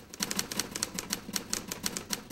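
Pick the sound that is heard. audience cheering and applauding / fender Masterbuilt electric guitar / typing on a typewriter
typing on a typewriter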